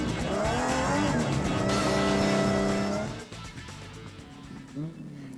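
A Ford Ranger off-road race truck in a desert endurance race roars past with a loud, rising engine note that peaks and then drops away, leaving fainter distant engine noise and a brief later burst.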